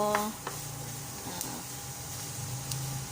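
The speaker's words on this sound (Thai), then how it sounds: "ใส่เนยใส่หอมสับใส่กระเทียมสับลงไปนะคะ แล้วก็ให้มันความร้อนให้มันร้อนไปพร้อม ๆกันนะคะ" Butter with chopped onion and garlic sizzling in a hot pan, a steady soft hiss with a few scrapes and clinks of a stirring utensil, close and moderately quiet.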